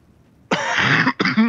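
A single short cough bursts out close and loud, followed after a brief pause by a second rougher cough or throat-clearing.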